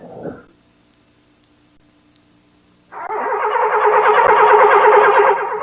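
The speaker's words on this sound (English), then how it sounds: "car won't start" A car in snowbound Louisville during a January storm cranks without catching, a steady loud grinding whir after a brief quiet stretch, running nearly three seconds before cutting off.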